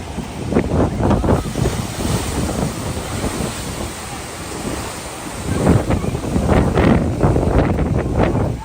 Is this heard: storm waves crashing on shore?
yes